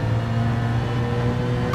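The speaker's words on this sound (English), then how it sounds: "there's a big old pickup of revs as you go down that hill" A car's engine in the racing video game Gran Turismo 7 holds a steady, loud droning note while heading downhill, with no voices over it.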